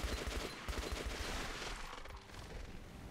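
A barrage of gunfire in Metro Last Light, the shooter video game, comes as rapid, close bursts of shots, then fades into a fainter crackle.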